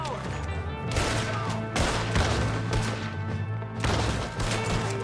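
Gunfire in a Red Dead Redemption 2 shootout, several loud sharp shots and volleys spaced a second or so apart over a busy background of game action.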